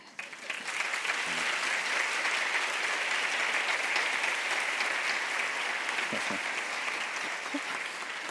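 Sustained audience applause fills a talk with Ángel Martín, a steady dense wash of clapping that swells in within the first second and holds evenly to the end, with no speech over it.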